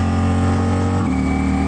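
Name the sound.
Ducati Diavel V4 motorcycle with Termignoni dragster exhaust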